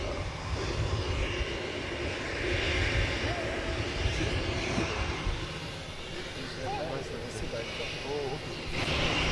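A large aircraft engine roars steadily as a presidential plane arrives at a summit, a continuous broad rumble under live commentary from people talking throughout.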